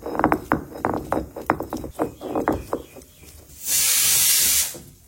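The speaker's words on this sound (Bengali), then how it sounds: "3-4টা সিটি হয়ে গেছে কুকারে" A pressure cooker on the stove vents steam in one loud, steady hissing whistle lasting about a second. Before it comes a run of sharp rhythmic pounding, like spices being ground on a stone.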